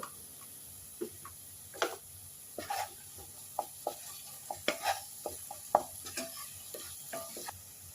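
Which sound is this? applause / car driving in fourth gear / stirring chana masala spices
stirring chana masala spices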